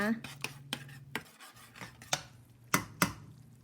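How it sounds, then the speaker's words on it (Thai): A spoon scrapes and taps in a pan while coconut milk is stirred with red curry paste for Thai red curry pork, a string of sharp close clicks and rasps over a quiet background. "แล้วก็คนกะทิกับพริกแกงนะคะ"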